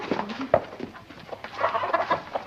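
Chickens cluck in short irregular bursts at a farmyard, close and moderately loud, with overlapping murmuring calls and no talk.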